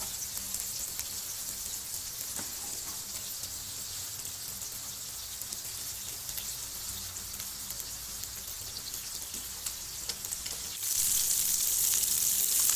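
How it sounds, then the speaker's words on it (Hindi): Kababs frying in oil in a home kitchen, a continuous close, crackling sizzle that runs steadily and grows noticeably louder and brighter near the end, with no voices. "अच्छी तरह फ्राई होने दें इसको। पहले इसको हम पलट देते हैं, एक साइड इसकी पलट देते हैं।"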